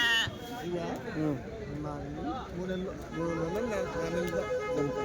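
Young red rams bleat at the busy Kadiri sheep and goat market, their loud overlapping wavering cries repeating nonstop close by over crowd babble.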